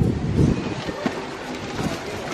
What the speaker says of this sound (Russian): Ого, какой ветер.